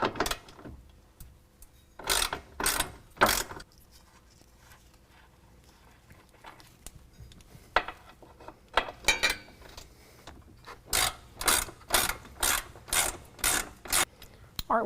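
A ratchet clicks in quick bursts while loosening 16mm nuts on the rear bumper bolts of a 2019 Ram 1500, with pauses between runs and a long steady series of clicks near the end, close and clear.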